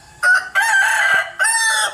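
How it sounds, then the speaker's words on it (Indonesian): A rooster crows loudly and close by in three quick, raspy bursts, with short gaps between them and no other sounds. "Suara ayam."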